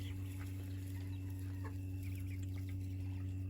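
Chickens cluck faintly in the background of a village poultry yard in the evening, over a steady low electrical hum.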